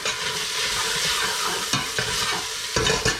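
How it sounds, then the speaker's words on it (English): Chopped ingredients for a mussel dish stirred in a hot pan, a continuous close sizzle punctuated by several sharp utensil knocks and scrapes, no speech. "And then give this bad boy a stir."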